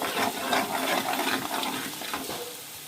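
Village-style country chicken curry fries in a pan with a dense, close sizzle, broken by wet scraping as it is stirred, for a few seconds without any voices.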